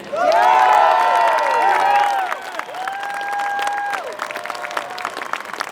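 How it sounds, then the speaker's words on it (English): An audience at a Believe in Scotland rally applauds speaker Iona Soper, loud clapping mixed with cheers and whoops that fade into sparser claps. "Please give a massive round of applause to Iona Soper"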